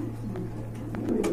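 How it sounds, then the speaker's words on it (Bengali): Several racing pigeons, including a Golap pair, coo steadily at close range in a busy loft, a low murmuring drone with overlapping calls throughout. "এই যে দেখেন গোলাপ জুটি কবুতর"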